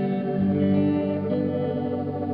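An electric guitar played through the tremolo setting of a Strymon Timeline delay pedal, sustained chiming chords ringing steadily with no voices.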